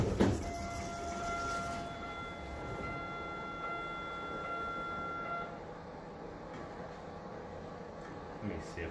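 A hotel elevator's down chime at Hampton Inn & Suites Tampa North rings as one long, steady electronic tone with bright overtones, holding for about five seconds before fading into quiet lobby hum.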